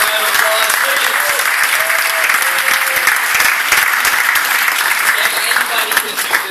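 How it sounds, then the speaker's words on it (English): An audience at a group challenge party in London breaks into sustained, dense applause that fills the room steadily, with voices faintly mixed in. "Give it a round of applause, please."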